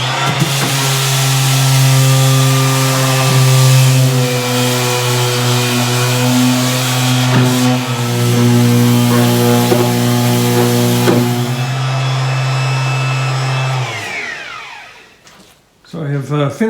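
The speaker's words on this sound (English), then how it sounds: "this is just final sanding in preparation for stain" A power sander gives a wooden console its final sanding before stain. It drones steadily, loud and close, with small shifts in pitch for about fourteen seconds, then winds down to quiet.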